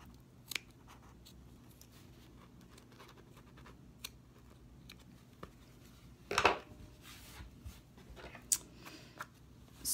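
Scissors trim fabric around a turn lock opening: quiet, sparse snips and scratches over a soft background hum, with one sharper, louder cut partway through.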